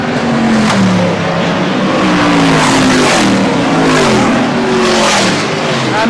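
Race cars thunder around a circuit during a race, including the number 5.5 and number 9 cars, with continuous loud engine roar and repeated revving pitch sweeps as cars pass close by, no talking.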